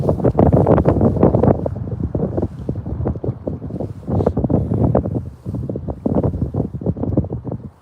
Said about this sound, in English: The wind is blowing more. Can't escape the wind.